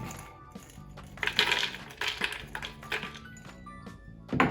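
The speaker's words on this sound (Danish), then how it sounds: "Så putter jeg faktisk også lige lidt nødder i." Nuts clatter into a blender jar over ice cubes at the bottom, a run of small hard taps and rattles during smoothie preparation, fairly close and alone.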